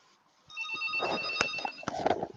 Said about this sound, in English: That'll be the phone.